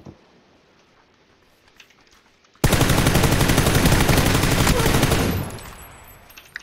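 A video game firefight: after a quiet, low stretch, a loud burst of rapid automatic gunshots breaks out suddenly. It rattles on for about three seconds, then fades away.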